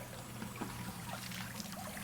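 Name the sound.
water pouring out of custom bilge pump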